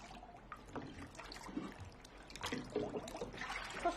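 Water trickles and splashes softly in a basin as a child's feet are washed, with faint, irregular dribbles and small sloshes close by.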